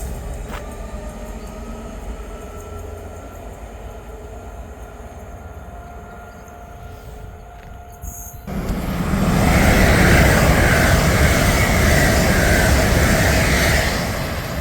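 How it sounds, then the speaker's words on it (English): An Avanti West Coast class 807 train passes through Berkhamsted station, its broadband roar rising sharply about halfway through and holding loud and close to the end, over faint earlier rumble. "passing through now is another 807 for Avanti West Coast"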